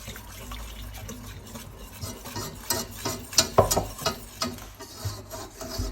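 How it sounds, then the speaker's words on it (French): Milk is poured into a butter-and-flour roux in a pan while a utensil stirs and scrapes, with gentle sloshing and irregular rubbing sounds close by. "on va mouiller gentiment avec le lait"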